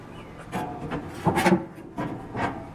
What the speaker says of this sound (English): the final step is putting the grill grates back. So we'll do that now.